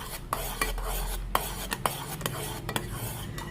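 A utensil stirs boiling sugar-free condensed milk in a pot, scraping steadily with sharp clicks and knocks against the metal every half second or so, set over a soft bubbling hiss.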